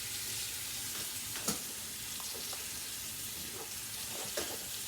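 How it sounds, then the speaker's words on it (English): Beef for Japanese curry sizzles and browns in a hot pan, a steady dense crackling hiss throughout with a couple of soft clicks of a utensil, close and even. "just to let this sizzle and then let it brown."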